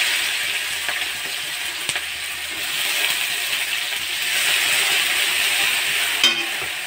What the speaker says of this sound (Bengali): আমি ফোড়নে দিয়ে দেব কুচি করা পেঁয়াজ